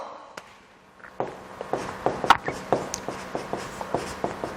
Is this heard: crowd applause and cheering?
no